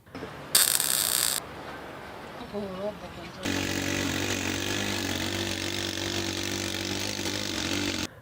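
Engine of a homemade helicopter built from scrap metal in Uganda: a brief harsh mechanical burst early on, then a loud, steady buzzing drone like a small two-stroke motor that starts midway and runs continuously, with a voice heard before it.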